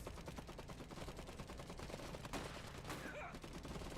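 Gunfire in the dieselpunk post-WWI mech tactics game Iron Harvest, a steady rattle of rapid machine-gun bursts filling the whole stretch with a few louder cracks near the end.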